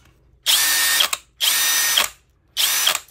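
Krisbow Dongcheng drill run in three short bursts, each about half a second of high, whirring motor noise with a rattling, clacking edge, separated by brief pauses and heard close with no talking.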